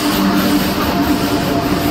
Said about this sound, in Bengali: শতাব্দী এক্সপ্রেস ঢুকছে 1 নম্বর প্ল্যাটফর্মে বর্ধমানে